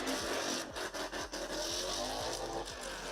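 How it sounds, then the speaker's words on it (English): Mustang DK600 drift car from Doman Racing running a Formula Drift qualifying session in Indonesia, its engine roaring loudly and steadily with repeated rev pulses and tire noise, close and continuous throughout. "A literal Mustang is on the track here on our live stream"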